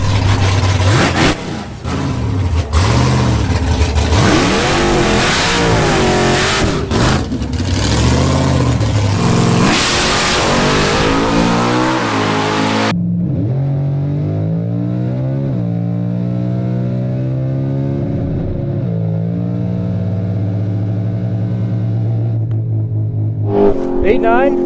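Chevrolet COPO Camaro on a quarter-mile drag pass, engine roaring at full throttle with rising revs and gear shifts, loud and close, then fading to a lower, more distant drone as the run ends.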